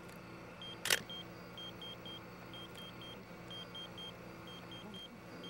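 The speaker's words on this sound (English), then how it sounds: "The insistent beeping from a pager broke the silence of the desert." An electronic pager beeps out in a quiet desert, a steady train of short high, evenly spaced electronic chirps over a low background hum, with one brief loud knock near the start.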